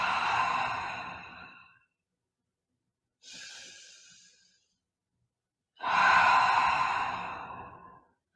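Slow, deep yoga breathing: a long audible exhale, a softer shorter breath, then another full, loud exhale, each separated by silence.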